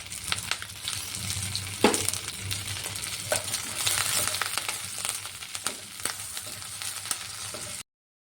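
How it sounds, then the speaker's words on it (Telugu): Green chillies and curry leaves fry in hot oil with mustard seeds for a puffed rice upma: a loud, steady close-up sizzle with occasional stirring scrapes and clinks that runs unbroken, then cuts off abruptly. "ఇందులో మనం కట్ చేసి పెట్టుకున్న పచ్చిమిర్చిని కూడా వేసుకోవాలి అలాగే కరివేపాకు"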